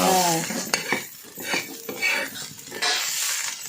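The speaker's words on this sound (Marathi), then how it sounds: "चांगली परतून घ्यायची" Vegetables sautéed in a pan, with a spoon scraping and clinking against the metal in uneven strokes over a light sizzle, close and fairly loud, no speech.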